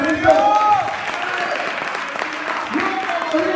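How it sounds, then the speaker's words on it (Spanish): A congregation claps during a lively church sermon, a loud crowd applause mixed with shouting and a voice calling out over the clapping, all fairly close and energetic. "dale un aplauso a Cristo."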